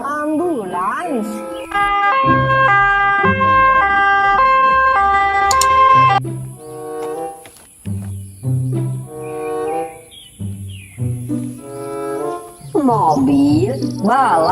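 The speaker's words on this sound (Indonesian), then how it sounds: "mobil ambulans" A toy ambulance's electronic siren plays a loud two-tone wail in repeated steady cycles, with a high electronic whine and short spoken bits between and after.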